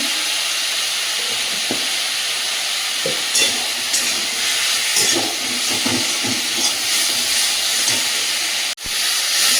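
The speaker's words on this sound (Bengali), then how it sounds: "মশলাটা ফুলে উঠছিল, হালকা জল দিয়ে দিলাম।" A frying spice paste hisses steadily after a little water is poured in, a dense close sizzle with faint stirring knocks underneath and a brief thump near the end.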